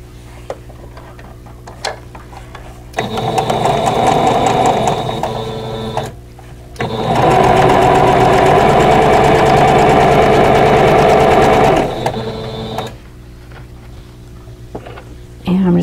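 Sewing machine stitching quilt block pieces, rectangles and triangles placed right sides together for a vintage Basket of Diamonds block, runs steadily and loudly in two long bursts separated by a short pause.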